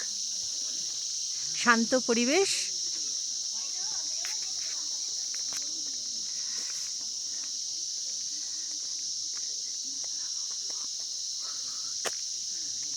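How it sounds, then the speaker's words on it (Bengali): Crickets chirp in a steady, high continuous drone around Sillery Gaon, a misty hill village in Sikkim, with a few brief vocal sounds early on and soft scattered rustles over the constant insect chorus. "ঝিঝি পোকার ডাক"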